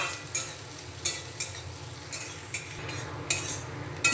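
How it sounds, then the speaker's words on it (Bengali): Chopped onions sizzle softly as they are lightly fried in a pan while a utensil clinks and scrapes now and then, stirring at an irregular pace. "পেঁয়াজ কুচিটা হালকা ভাজা ভাজা করে নেব বেশি কড়া করে ভাজবো না হালকা করে ভেজে নেব"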